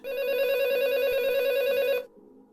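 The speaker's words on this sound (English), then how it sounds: "On a fateful evening, a phone call is made." A telephone rings once with a loud, steady electronic trill lasting about two seconds, then cuts off abruptly.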